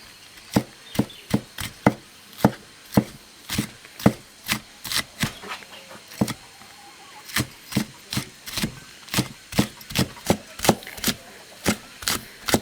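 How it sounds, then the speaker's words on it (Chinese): A knife chops food on a cutting board in steady, evenly spaced sharp knocks, close and clear, continuing for many strokes with a brief pause midway. "好，再给它切碎。"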